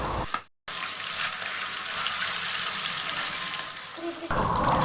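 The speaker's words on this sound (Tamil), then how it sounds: "கடாயில் எண்ணெய் சூடுபடுத்தி ஊற வச்ச சிக்கனை சேர்த்து நல்லா ஃப்ரை" Chicken 65 sizzles in hot oil in a kadai, a dense continuous frying hiss after a brief cut, close and steady, growing louder and brighter near the end.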